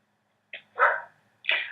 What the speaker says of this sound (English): the neurotic dog next door has started barking